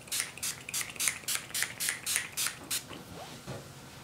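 All Nighter makeup setting spray hisses in about nine quick, evenly spaced bursts, close and fairly soft, with no talking.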